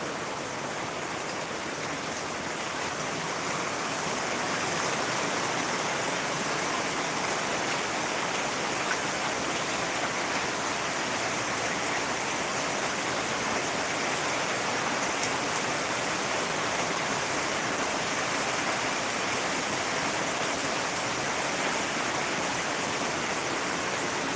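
Heavy rain pours down steadily outdoors near flooded fish ponds, a dense, unbroken roar of water that stays loud and even from start to finish with no talking.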